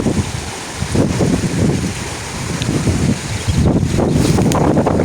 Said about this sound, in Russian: Красивые волны какие,